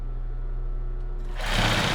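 A domestic sewing machine stitches lace underwear, a steady mechanical hum for most of the stretch that swells into a louder, denser whir near the end as the stitching speeds up, heard close and alone.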